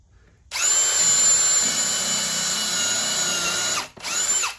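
A power drill pre-drilling oak whirs loudly and steadily for a few seconds, stops briefly, then spins up again close by.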